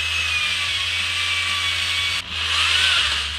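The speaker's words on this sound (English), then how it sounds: "I'm gonna have to try the apple drill challenge." A power drill spins an apple to peel it in a kitchen, giving a loud, continuous high motor whine with a low hum beneath, briefly dipping for a moment before the steady whirring resumes.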